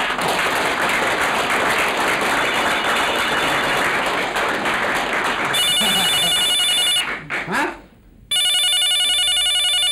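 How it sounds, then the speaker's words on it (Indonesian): An electronic telephone ring tone chirps in repeated bursts over loud, noisy background chatter, with a brief voice between the rings. "Telepon lagi nih."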